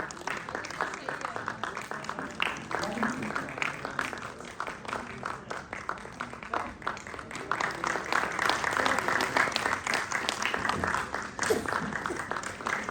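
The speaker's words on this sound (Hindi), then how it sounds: "जोरदार तालियां टीम से अनुरोध करूंगा" Audience at a yoga conference on integrated medicine clapping steadily in a hall, sustained applause of moderate loudness with a man announcing in Hindi over it.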